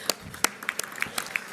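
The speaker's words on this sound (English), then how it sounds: "Let's give them a round of applause." Scattered, fairly quiet handclaps from a luncheon audience at a transportation summit, a few sharp claps standing out rather than a full ovation.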